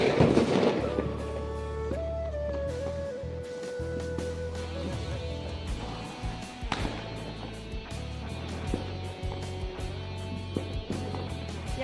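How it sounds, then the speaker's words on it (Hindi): Diwali firecrackers and fireworks burst outdoors in scattered sharp pops and cracks, one louder bang standing out midway, all heard under steady background music. "जो बम पटाखे आपको पीछे से साउंड आ रहा होगा ना"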